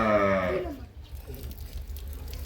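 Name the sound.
cows and calves on a farm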